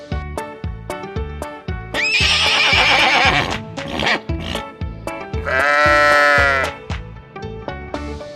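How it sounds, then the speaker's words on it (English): A farm animal toy gives out a shrill horse whinny and then a second long neighing call, both laid over a cheerful repeating melody and heard loud and near. "Horse."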